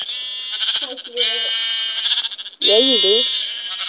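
Sheep bleating in the video game Minecraft, two wavering bleats heard over a constant high electronic tone, with a person speaking briefly in between.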